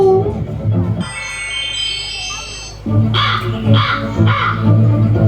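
A crow caws several times during a school stage play, harsh repeated calls over a noisy hall with a sustained tonal effect earlier and people talking around it.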